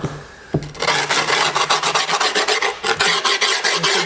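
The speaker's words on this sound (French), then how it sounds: "Allez, hop, je lime directement." Filing the edge of skateboard grip tape: after a single knock, a close, loud, rhythmic rasp of repeated back-and-forth file strokes continues steadily to the end.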